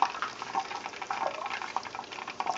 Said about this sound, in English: Make it up, and I'll put it in the deep fryer